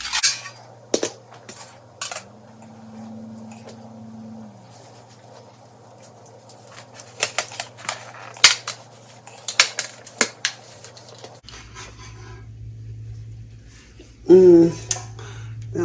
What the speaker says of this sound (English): I just want to get this turned out onto a pan.